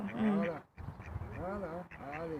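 Wild ducks choosing mates, quacking in repeated nasal calls in three short groups, close by and moderately quiet, with a voice talking faintly in the background.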